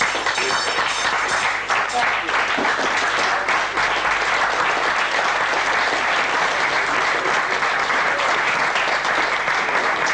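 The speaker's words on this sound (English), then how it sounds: "Big round of applause." Sustained, dense applause from a convention audience after a magic double act's performance, steady and loud throughout with a host's voice faintly underneath.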